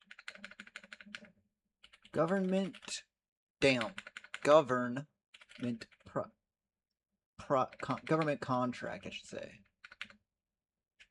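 A computer keyboard clacks in quick rapid bursts, close and fairly loud, with someone talking between the runs of typing.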